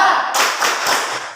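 A school class does a rhythmic 'tepuk semangat' clap in the classroom; a few quick, sharp group claps in a patterned burst, fairly close and loud.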